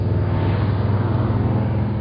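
A car engine runs with a steady low rumble and hum, heard from inside the vehicle as a constant drone, with no talk.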